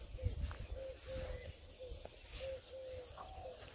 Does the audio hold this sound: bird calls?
yes